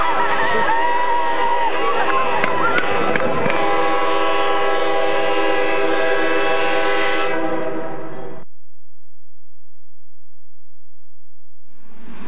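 A train rumbles past close by while its horn blasts loudly for several seconds, then the noise cuts off into near silence.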